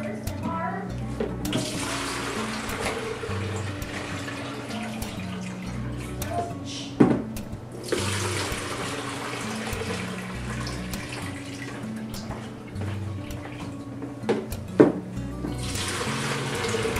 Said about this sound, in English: I reoxygenate the water.